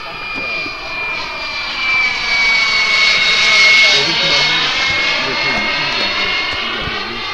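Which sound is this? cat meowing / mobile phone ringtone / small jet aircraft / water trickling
small jet aircraft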